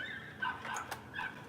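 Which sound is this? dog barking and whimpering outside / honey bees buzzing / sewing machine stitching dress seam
dog barking and whimpering outside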